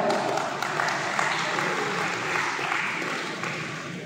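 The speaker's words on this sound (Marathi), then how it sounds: "जोरदार टाळ्या अमरजी कबाडे" An audience at a wildlife photography award ceremony in Junnar claps steadily, a thick wash of applause that stays fairly even and slowly eases off toward the end.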